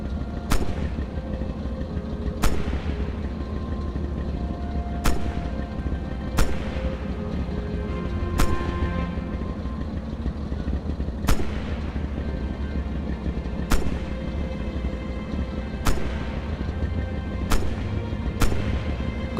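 A tank hull machine gun fires at targets in Red Orchestra 2, heard as about a dozen sharp single shots spaced a second or two apart over steady engine rumble.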